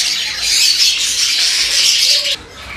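A flock of Hagoromo budgerigar parakeets in an aviary, dense continuous chirping and squawking chatter, loud and close, with no talking.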